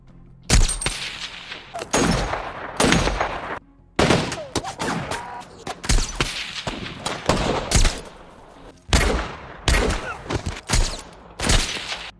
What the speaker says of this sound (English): he immediately opened fire.